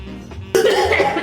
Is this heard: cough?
yes